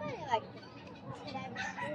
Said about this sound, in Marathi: या कोंबडीचं नाव काय माहितीये काय? सिल्की हेन, सिल्की कोंबडी.